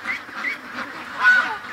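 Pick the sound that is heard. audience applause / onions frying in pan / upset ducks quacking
upset ducks quacking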